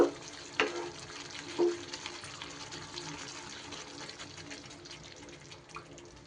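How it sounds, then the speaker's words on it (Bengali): Water is poured into a cooking pot of chicken, with a couple of brief splashes early on and then a steady, fairly quiet trickling pour. "এবার আমি এখানে একটু জল অ্যাড করে দেব"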